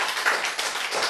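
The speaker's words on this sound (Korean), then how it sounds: "박수." An audience in a Korean church sermon hall breaks into applause, a dense, steady patter of many hands clapping together for about a second.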